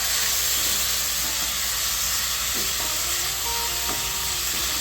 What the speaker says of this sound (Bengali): ভালো করে নেড়ে চেড়ে মাংসটা একটু ভেজে নিচ্ছি।